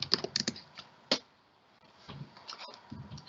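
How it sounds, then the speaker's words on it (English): Keys tap on a computer keyboard in a quick, quiet burst of clicks near the start, followed by a few scattered soft taps and low background noise. "and then I can type in Rwanda."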